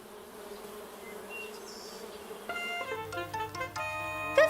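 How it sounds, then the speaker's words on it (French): Buzzing of thousands of bees inside a beehive in a children's cartoon, a faint steady drone that gives way to light music-like tones partway through. "En fait, des milliers d'abeilles vivent dedans."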